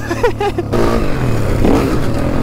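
A YCF 190 pit bike engine revs hard and close, a brief throttle blip followed by a sustained loud roaring rasp with some clatter, continuous and without talk.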